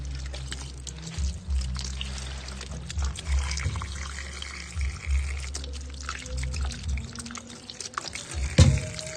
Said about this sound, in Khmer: ក្រោយពីយើងចិតសម្បកស្វាយអស់ហើយយើងធ្វើការលាងទឹកវាឲ្យស្អាតបន្តិច